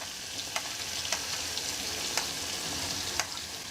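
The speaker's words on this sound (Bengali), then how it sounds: "সবগুলো উপকরণ খুব ভালো করে ব্রাউন কালার করে ভেজে নেব" Chopped garlic, onion and green chilies frying in oil left over from frying dried fish, a steady close sizzle broken by a few sharp spatter pops and stirring taps, with no talk.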